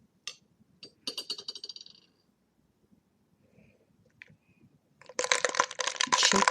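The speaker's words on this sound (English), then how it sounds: "Shake vigorously to chill." A vermouth and cranberry martini mixture in a cocktail shaker, first a few light clinks and rattles, then a quiet pause, then loud, steady, vigorous shaking with ice rattling close up.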